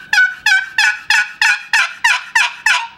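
A hand-held turkey call, lid held down, yelps in a steady series of about nine sharp, loud, evenly spaced notes, close and alone with no talking.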